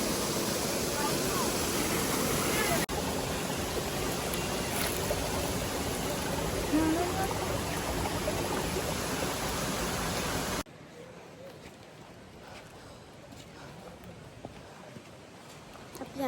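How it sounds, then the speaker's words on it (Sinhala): Anagimala waterfall in the Kanneliya rainforest, running low on water, gives a steady broadband rush of falling water that fills the first ten seconds, then drops abruptly to a quieter, more distant wash. "අපි අනගිමල ඇල්ල බැලුවා"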